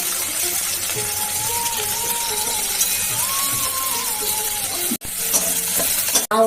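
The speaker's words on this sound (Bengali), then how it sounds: "মাছের তেলটা ছিল, তাতে একটু কালো জিরে দিচ্ছি" Nigella seeds sizzling in leftover hot fish oil in a pan, a steady close crackling hiss that runs throughout, with a faint tonal whine above it and a couple of brief breaks near the end.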